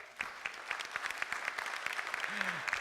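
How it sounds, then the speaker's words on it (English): Audience at a community forum on redistricting breaks into a round of applause, dense overlapping claps sustained throughout at moderate loudness, with a brief low voice-like tone near the end. "Give them a round of applause."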